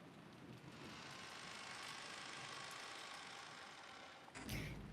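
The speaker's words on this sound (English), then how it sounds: "The only voice that called after them was the sound of the rain." A continuous hiss of rain falls evenly at moderate volume, ending in a short louder clatter at the close, with no voices.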